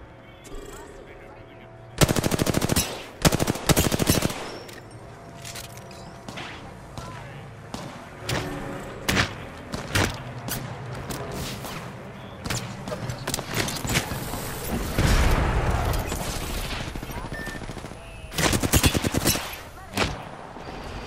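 Rapid video game gunfire from two opposing teams crackles in bursts, with loud clusters of automatic shots early and again near the end, scattered single shots between, and a player's voice occasionally audible.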